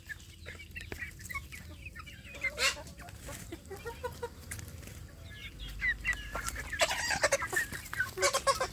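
Free-range village chickens cluck and squawk in bursts outdoors, with a rooster-like call and scattered bird chatter, moderately close and fairly lively.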